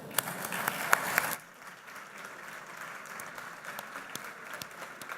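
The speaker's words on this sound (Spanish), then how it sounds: "los recibimos con un gran aplauso" An audience applauds panelists at a business reinvention panel event: a burst of dense clapping for about a second, then it fades into a softer, scattered patter of claps for the rest.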